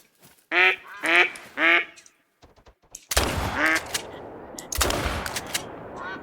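Mallard ducks quack three times in the virtual wetland of theHunter: Call of the Wild. Two loud, sharp gunshots follow about a second and a half apart, each trailing off with a ringing decay.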